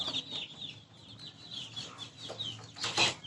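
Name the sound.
chickens clucking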